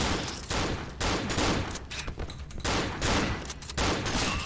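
Armed enemies in Cry of Fear fire their guns in dense, rapid bursts. The loud shots come close together, with brief dips between volleys.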